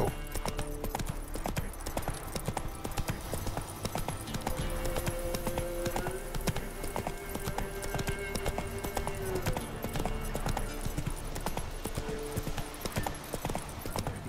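Geralt's horse Roach from The Witcher 3 galloping, a rapid continuous clip-clop of hooves running steadily throughout, close and prominent over game ambience and a faint musical tone.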